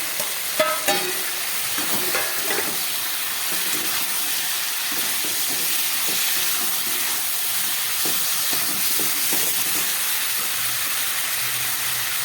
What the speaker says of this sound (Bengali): এবার আমি এর মধ্যে দিয়ে দেবো এই ভেজে রাখা শিম আর বেগুনটা